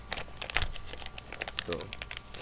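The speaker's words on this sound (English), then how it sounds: "I'm gonna do the unwrapping of Ocarina Time for 3DS" Packaging of an Ocarina of Time 3DS game being unwrapped, with dense crinkling and crackling of plastic film in quick irregular bursts, close up.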